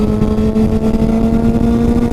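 A Yamaha FZ6 S2 motorcycle engine drones loudly at close range, holding a constant low pitch with slight fluctuations rather than rising revs.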